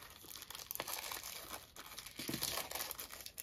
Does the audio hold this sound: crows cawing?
no